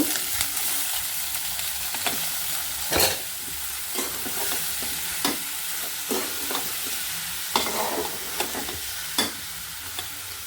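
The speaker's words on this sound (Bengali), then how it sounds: "পেঁয়াজটা হালকা বাদামি করছি" Onions frying in a pan until light brown, a constant hiss of sizzling oil broken by occasional sharper clinks and scrapes of a stirring spoon.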